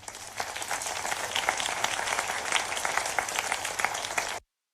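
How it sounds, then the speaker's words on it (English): A crowd of people clapping, a dense steady burst of applause lasting a few seconds before cutting off abruptly. "it's people clapping"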